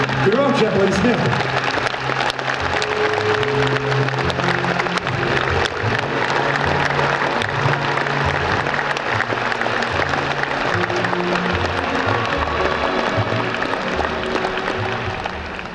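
Sustained applause from a big concert audience in the Moscow Kremlin, a thick wash of many hands clapping at even strength, with a voice briefly heard at the beginning.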